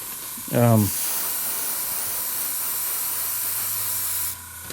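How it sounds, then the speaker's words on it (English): Hairspray sprays from an aerosol can onto a painted model Brummbar tank, a steady broadband hiss lasting several seconds, close and loud, just after a brief burst of speech. "here's the hairspray that I've used"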